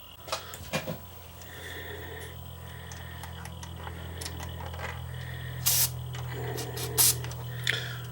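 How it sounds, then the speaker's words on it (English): A cleaner spray is aimed at the record switch of an Akai HX-A1 cassette deck. Several short, sharp hissing spurts come close up over a low steady hum, mixed with small clicks. "I guess I probably should give that record switch just a little shot of cleaner, just to make sure."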